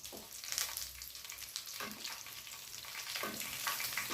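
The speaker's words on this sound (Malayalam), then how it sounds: "2 പച്ചമുളക് ഇട്ട് വഴറ്റിയിട്ട്" Green chillies and ginger sauté in a hot pan with a steady close sizzle, broken by scraping stirs, no voices.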